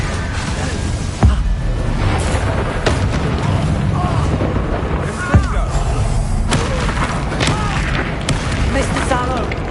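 Bombarda and Confringo spells explode in the video game Hogwarts Legacy: a continuous run of booming, thudding blasts with sharp thumps around the second and fifth seconds, layered over busy battle noise and voices.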